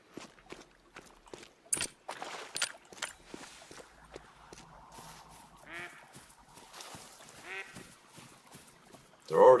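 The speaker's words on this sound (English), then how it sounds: "There's harlequin duck already." Harlequin ducks quack in theHunter: Call of the Wild, short nasal calls scattered across a quiet outdoor scene with clicks and rustles, and a louder call rising at the end.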